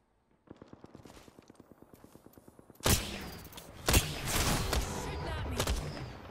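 Gunfire in the battle royale game Apex Legends: a rapid, evenly spaced automatic burst starts quietly, then heavier, louder shots and blasts crash in, with a voice briefly audible beneath.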